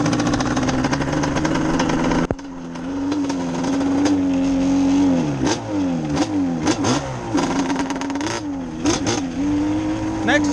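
Cub tractor with a 421 engine running under load: a loud, steady droning engine hum with the pitch dipping and recovering several times as the motor lugs and revs, close by, with a brief mechanical knock early on.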